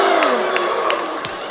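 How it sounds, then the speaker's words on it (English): Dodgeball spectators at a foam mixed championship final erupt in a loud, sustained crowd reaction of shouts and cheers that swells with a few sharp whoops, then eases off slightly. "you could hear the mixed reactions in the crowd"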